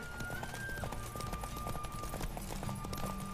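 Rapid clip-clop of a horse's hooves at a steady gallop runs throughout, with an electronic tone and game-like effects layered over it, in the video game The Witcher 3: Wild Hunt.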